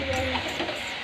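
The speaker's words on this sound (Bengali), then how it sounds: "এবার মাংস দিয়ে দিচ্ছি।" Chicken meat added to fried spice paste in a pan for a country chicken curry, a dense steady sizzle with stirring scrapes, close and loud with no talking.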